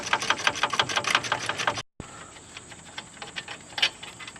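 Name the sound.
removing 18mm bolt from TrailBlazer wheel hub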